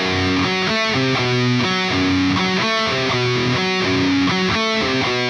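A heavily distorted electric guitar plays a pre-chorus riff, with repeated chugging notes, loud and continuous without any talking.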